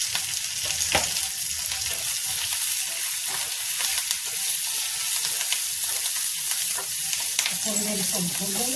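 Chili masala fries and sizzles steadily in a pan with occasional stirring scrapes, a continuous close hiss throughout, for a spicy green chili sabzi.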